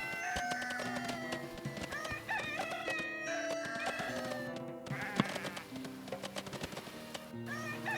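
Sheep bleat repeatedly in the medieval colony game Going Medieval, their wavering calls overlapping with chickens clucking and a rooster crowing amid a busy farmyard soundscape, at moderate volume.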